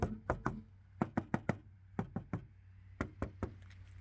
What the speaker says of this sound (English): That's plastic, that's the bumper.